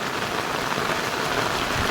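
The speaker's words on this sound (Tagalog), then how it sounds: "Itutur ko kayo habang malakas ang ulan." Dense, steady heavy downpour hissing all around a flooding village road, a loud constant wash of heavy rain with no voices.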